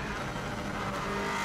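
A 2016 Subaru WRX STI rally car at speed on the Isle of Man TT road course, engine roaring loud and close from inside the car, with road and tyre noise, briefly and without talk.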